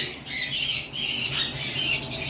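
Shrill, raspy squawks from lovebirds at a bird farm sound repeatedly and up close, a continuous chattering screech with no talking.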